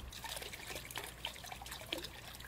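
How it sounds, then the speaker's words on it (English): Water trickling and dripping from a busted faucet in the video game The Crooked Man, a faint, irregular patter of small drips and splashes over a soft wash of flowing water, with no voices. "The water! Is the faucet busted?"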